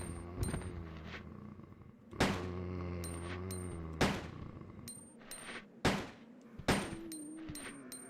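Gunshots in the video game Resident Evil 2, about five sharp loud bursts spaced through the stretch, each ringing out briefly over a low droning game background.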